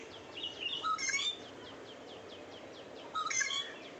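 A nearby bird calls in two bright chirping bursts about two seconds apart, with faint repeated tweets between them over a quiet background.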